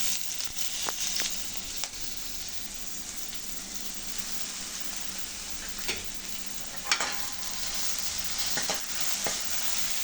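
Ginger-garlic paste fries in a pan with a steady, loud sizzling hiss, broken by a few sharp clinks and scrapes of stirring scattered throughout.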